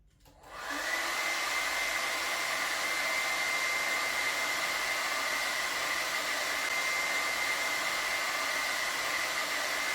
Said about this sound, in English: Let's see some more experiments on Bernoulli's principle using a hair dryer and various balls.